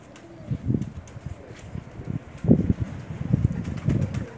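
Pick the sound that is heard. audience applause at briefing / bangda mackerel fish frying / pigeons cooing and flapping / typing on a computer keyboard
pigeons cooing and flapping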